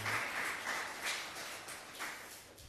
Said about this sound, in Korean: 우리 옆에 있는 분들 박수로 환영했으면 좋겠습니다.